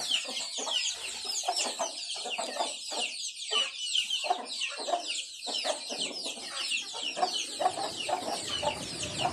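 Busy chicks peeping fill the scene, with steady high peeping and chirping layered over scattered clucks, continuous and fairly close, at a farm in rural Isan, Thailand, at night.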